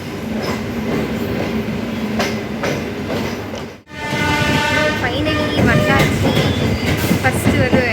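A train moving through a station, a steady rumbling roar of cars with rhythmic clatter, a brief dip midway, then a louder stretch with tonal horn-like squeals and wheel noise close by.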